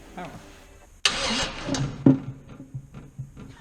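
A Chevrolet C10 truck engine is cranked with a starter wire and catches abruptly, a loud burst that settles into a rough idle with another surge, while voices talk nearby before and after.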